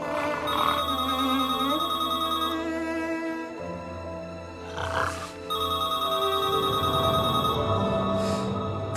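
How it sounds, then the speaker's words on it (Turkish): A telephone rings in a tense indoor drama scene, its bright repeating electronic tone sounding loud and close in steady bursts over a low dramatic musical drone, with a short break in the middle. "Telefonun sesini duyduğum an anlamıştım."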